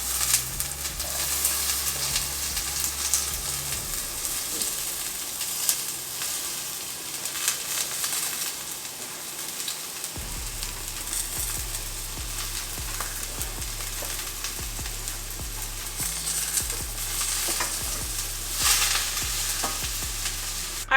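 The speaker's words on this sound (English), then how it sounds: "my veggies are all cut up, my toppings, I'm about to saute them" Chopped vegetables and pizza toppings sauté in a pan with a steady, close sizzle and repeated stirring scrapes throughout.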